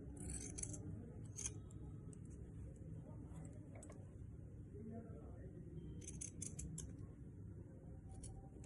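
Scissors snip away excess fabric from a princess-cut blouse being stitched, a few crisp cuts in short clusters over a low steady background hum.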